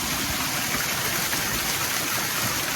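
Spring water gushing from a field pump at an off-grid home in Portland, Jamaica, a loud, continuous splashing rush heard close by with no talk.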